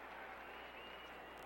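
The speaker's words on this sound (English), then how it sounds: "You know what they're cheering about?" A stadium crowd at a San Francisco 49ers versus Dallas Cowboys NFL game roars and applauds in a steady, dense wash of cheering that stays loud throughout the brief moment.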